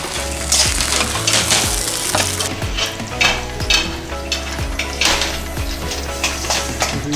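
Takoyaki holding pieces of a giant whole octopus cook on a griddle, sizzling loudly while a pick repeatedly scrapes and turns them in a busy, clattering rhythm.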